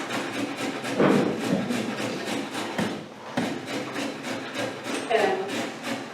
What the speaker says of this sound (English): I'm just using sort of what I consider the regular blade on the box grater